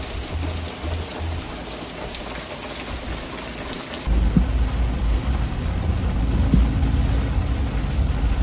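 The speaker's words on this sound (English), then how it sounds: "Storming, lightning, thundering." Heavy rain pours steadily during a storm at Panama City Beach, growing louder and denser halfway through, with a faint low rumble that may be thunder.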